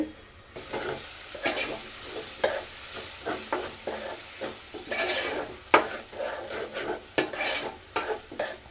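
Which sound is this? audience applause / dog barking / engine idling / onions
onions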